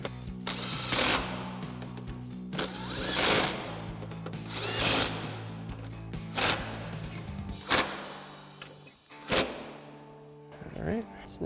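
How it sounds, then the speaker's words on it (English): An impact wrench with a 13 mm socket tightens bolts while lowering springs go onto a 2016-2024 Camaro, firing in several loud rattling bursts separated by pauses, close by. "grab our 13 mil socket on our impact and tighten these down"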